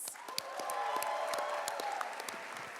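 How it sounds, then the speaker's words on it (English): An audience at The Mystery Box Show storytelling event applauding steadily, dense clapping throughout with a few sharper claps standing out, moderately loud and continuous. "give a huge round of applause to Paul Thomas."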